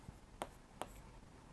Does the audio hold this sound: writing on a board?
yes